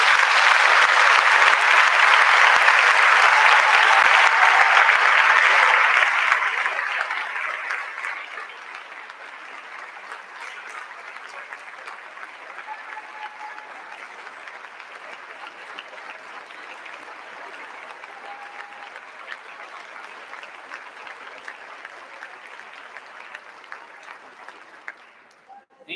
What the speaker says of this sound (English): let's give Sue Bach a round of applause